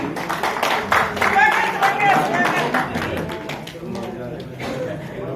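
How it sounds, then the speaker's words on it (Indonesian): An audience applauds a speaker at an Indonesian gathering, a burst of scattered handclaps under a person talking, louder at first and then thinning out toward the end. "Ibu Andi Ati, beri aplaus lagi."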